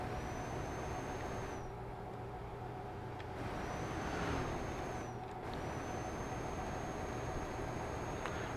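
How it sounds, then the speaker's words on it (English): Air brake hiss from a heavy truck in Euro Truck Simulator 2, a sharp release of air over a steady low engine drone, with high whistling tones recurring across the scene. "The brakes make, air hose, air brake sounds when you put them on"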